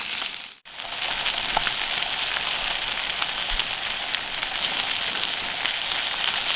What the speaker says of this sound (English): I normally just throw them straight in the frying pan as they are.